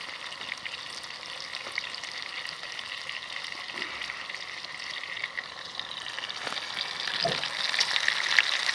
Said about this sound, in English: And then that's starting to sizzle now.